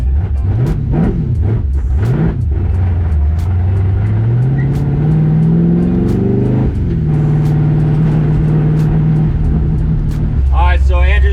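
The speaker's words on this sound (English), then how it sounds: "Engine's sounding real smooth. Idles is extremely different." An LS-swapped International Harvester Travelall wagon engine runs smoothly and continuously, its low hum rising steadily in pitch midway before settling into an even drone, with a brief higher-pitched burst near the end.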